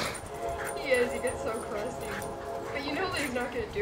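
Two dogs bark, yip and whimper while playing in a backyard, the excited noises coming in bursts over continuous background, with someone talking to them throughout.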